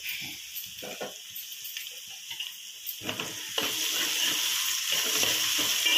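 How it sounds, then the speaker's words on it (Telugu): Onions, green chillies and curry leaves fry in a pan for a home-style chicken curry, giving a steady soft hiss and sizzle that grows louder and denser partway through, with light scattered crackles and no voices. "ఉల్లిపాయలు పచ్చిమిర్చి కరివేపాకు వేగి కొంచెం కరివేపాకు పసుపు వేసుకోండి."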